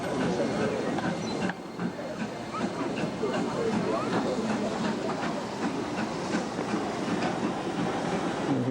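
A British steam train rumbles and clatters steadily as it pulls away from the station, with rhythmic clicking of wheels and a constant hiss, fairly close and continuous.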